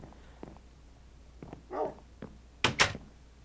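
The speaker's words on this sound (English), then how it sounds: "Come in here, dog." A dog in the Minecraft video game gives a few short barks and a whine, scattered and fairly near, ending with two sharp loud barks in quick succession.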